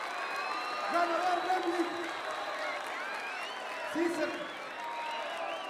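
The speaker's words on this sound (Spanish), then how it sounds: "Un fuerte aplauso para Cacha" A crowd at a freestyle rap battle applauds and cheers continuously at moderate distance while a host speaks over the noise.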